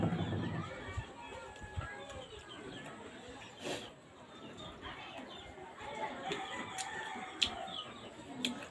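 Chickens cluck softly and intermittently in the background, faint and somewhat distant, amid general outdoor ambience.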